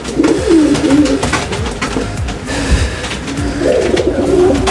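A female pacek bird calls in a series of soft, repeated cooing notes over steady background noise, close and fairly loud with no talk.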